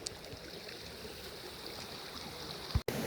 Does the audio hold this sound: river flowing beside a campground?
yes